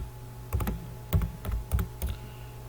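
Computer keyboard keys being pressed, the space bar and enter, as a sequence of four or five close, distinct clacking keystrokes, some doubled, with short pauses between them.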